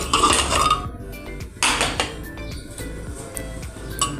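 A pressure cooker of boiled mung beans is lifted off a gas stove in a home kitchen. Its metal clanks and scrapes against the burner in a few loud, close bursts between quieter pauses.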